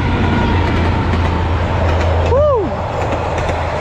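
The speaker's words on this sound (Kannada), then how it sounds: "ಟ್ರೈನ್ ಬಂತು" A train pulls into a station in Vietnam with a loud, steady rolling rumble. A short rising-and-falling tone sounds partway through.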